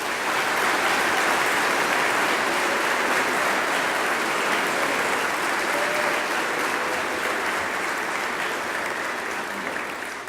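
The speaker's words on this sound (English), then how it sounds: "you may recognize the accomplishment of these students with your applause." Sustained applause from an audience at a student honors ceremony for a career and technical education center, a dense, even wash of clapping that fills the hall at steady volume for about ten seconds, fading slightly at the end.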